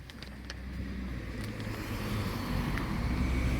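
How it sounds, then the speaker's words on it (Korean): Cars roll into the tourist village of Uchiko, a steady close engine rumble and tire noise that grows slightly louder over a few seconds. "차들이 많이 들어오네"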